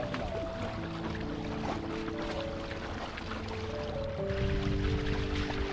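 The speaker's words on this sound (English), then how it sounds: "This is a regular old fishing boat." A fishing boat motor hums steadily on open water in the Padre Island canals, its tonal drone mixed with splashing and wind noise, growing a bit louder near the end.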